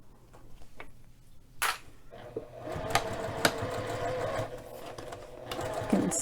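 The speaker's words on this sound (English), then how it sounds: "I'm going to turn it over and sew down this side" A domestic sewing machine stitches through sticky waterproof canvas for a bag, its needle running in a steady close rhythmic whir with a few sharp clicks, gradually growing busier.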